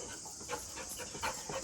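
A dog pants steadily and rapidly, close by, with quick rhythmic breaths over a faint hiss; no talking.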